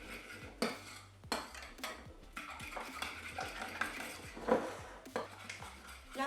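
A chaat dressing with roasted cumin seeds and fresh coriander is mixed by hand, with a spoon clinking and scraping against a bowl in irregular, close, quiet strokes and no talking.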